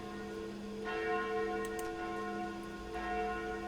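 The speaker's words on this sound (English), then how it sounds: "Those sound like the church's noontime bells." Church bells ringing out at noon in the Sucker for Love video game, sustained overlapping tolls with a fresh strike partway through, steady and moderately distant, no talking.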